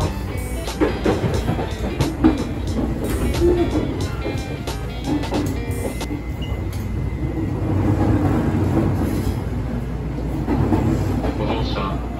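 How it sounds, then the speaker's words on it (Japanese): A local commuter train near Dazaifu in Fukuoka rumbles along the rails, heard from on board with a steady low roar and scattered clicking joints, loud and continuous throughout. "この電車は富士山行きの普通電車です。"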